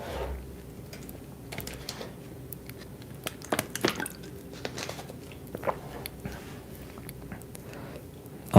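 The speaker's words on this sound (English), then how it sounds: "Take a quick drink of water here." Someone takes a quick drink of water up close, giving soft wet sips and swallows with small squishing and dripping sounds in an otherwise quiet room.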